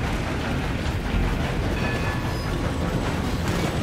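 A hijacked train rolls along in Red Dead Redemption 2, a steady, loud wash of rumbling wheels and rattling cars that fills the scene without pause.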